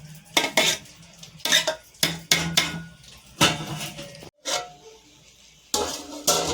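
Metal pots, lids and utensils clatter and clink in a home kitchen as a pot is covered for dum cooking, with a run of sharp, close knocks and scrapes separated by short pauses and no talking.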